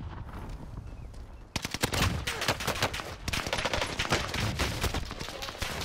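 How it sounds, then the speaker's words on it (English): Gunfire from the Call of Duty Vanguard Warzone video game, with rapid automatic bursts starting abruptly after a quieter moment and continuing in dense, loud volleys. "Somebody's to my left too shooting."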